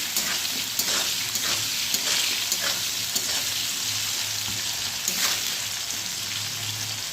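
Potatoes fry in a pan with a steady, loud sizzle and crackle that continues throughout, with no voices.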